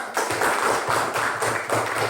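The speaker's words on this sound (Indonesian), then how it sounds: "Tepuk tangan dulu untuk ini dulu." A classroom of students claps together, a loud, busy patter of many hands in uneven bursts filling the room, with no voices over it.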